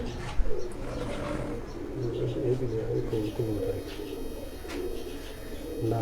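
Lakha pigeons coo on a rooftop in Jalalpur Bhattian, a dense rolling murmur of several birds close by, with a voice speaking over it.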